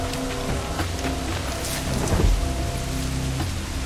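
Steady heavy rain in the video game Assassin's Creed IV: Black Flag patters close and continuous, swelling briefly midway with a low rumble beneath the downpour.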